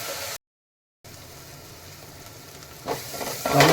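Tomatoes cook in a pan for a Marathi-style crab curry, a soft steady sizzle with a short silent gap, then the frying hiss swells louder near the end as the pan is stirred.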